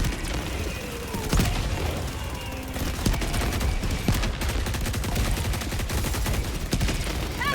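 Rapid, sustained automatic gunfire from a Gatling sentry turret in Helldivers 2, a continuous loud rattle of shots with booming impacts layered through the battle, near and dense for the whole stretch.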